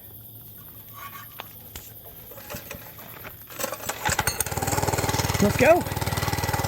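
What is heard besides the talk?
Monkey Bike small motorcycle engine running on choke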